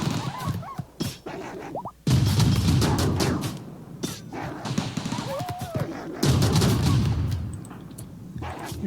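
Gunfire crackles through a raid in the Rimworld video game, with bursts of shots and thuds in dense clusters, broken by brief lulls, while someone talks over much of it.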